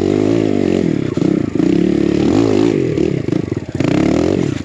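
A BBR KLX170RF dirt bike climbs a jump in snowy terrain, its single-cylinder engine revving hard and surging in waves with brief throttle dips, loud and close with some clatter.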